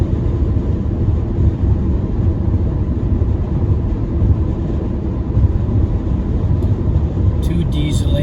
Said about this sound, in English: Two diesel engines on this one,